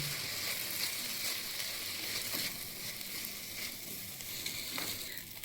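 Oats tossed and mixed in a frying pan for oats poha, a continuous soft sizzle broken by light scraping strokes of a spatula, heard up close without any voices.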